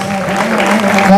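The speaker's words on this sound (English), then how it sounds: "Was that a clap? Sounded like raindrops." Sparse, light applause from an audience at an award presentation during a live-streamed event, sounding thin and patter-like, rising slightly toward the end.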